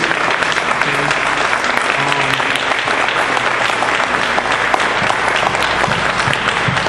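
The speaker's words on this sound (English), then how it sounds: "Give them a round of applause again, please" Loud, sustained applause from a crowd honoring 65th Infantry veterans at a ceremony with the governor of Connecticut, a thick continuous roar of clapping, with some voices mixed in beneath it.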